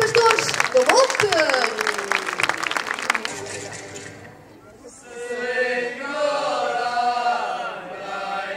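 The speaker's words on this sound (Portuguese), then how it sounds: "Vamos então, uma salva de palmas para eles." Audience applause for a folk singing group at a Kings' Day (Reis) gathering, a burst of clapping with a spoken voice over it, then fading as the group begins singing.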